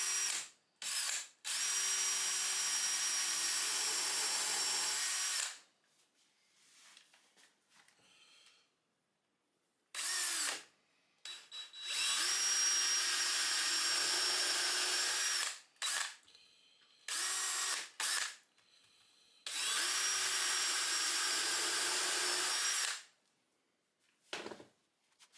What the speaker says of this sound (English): did the equivalent of pocket holes from the top using my countersink drill bit